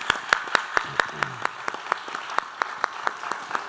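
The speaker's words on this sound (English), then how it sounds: "I think we should give her another round of applause" An audience at a symposium lecture claps in sparse, evenly spaced claps that carry on for a few seconds, with a voice faintly underneath.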